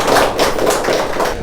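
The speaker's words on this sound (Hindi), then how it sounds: "मैं चाहूँगा आप सभी अपने लिए ताली बजाएं" An audience at an event honouring India's national disabled cricket team claps together, a dense, loud burst of close applause filling the short moment without speech.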